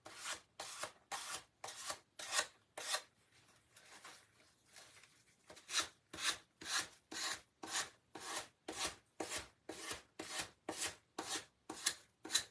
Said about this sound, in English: You can sand your edges down.